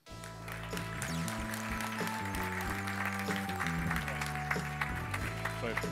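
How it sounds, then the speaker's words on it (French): A room full of audience members applauds at a tech company presentation, a steady moderate wash of clapping heard under a tonal musical bed that plays throughout. "Je vous demande d'applaudir Giroptique."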